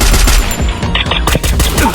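Counter-Strike gunfire crackles in loud, rapid bursts that run close together like automatic fire, with brief gaps between volleys and a faint voice underneath.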